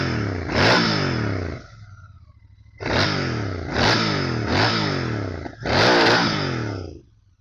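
Royal Enfield Interceptor Bear 650 motorcycle with its 650 engine, revved four times in loud, close bursts, each a rising roar that drops back to a low idle burble between blips.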